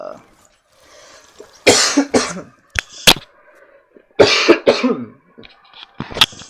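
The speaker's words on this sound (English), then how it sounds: "Try not to cough too much in the mic" A person coughs several times in short bursts, loud and close to the microphone, with brief pauses between the coughs.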